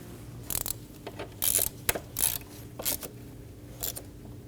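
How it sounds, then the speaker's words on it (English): A ratchet snugging throttle body bolts on a 2012-2022 Volkswagen Passat 2.5L, a series of short quick clicking bursts with pauses between them, close and fairly quiet. "Snug down the bolts in a cross pattern."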